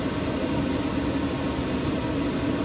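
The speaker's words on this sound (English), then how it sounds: "you want to hear that sizzle." Chilli and ginger sizzle in a hot pan, giving a steady, unbroken hiss at moderate volume, alone with no talk.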